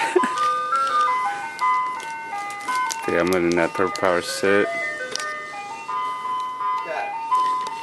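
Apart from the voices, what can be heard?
ice cream truck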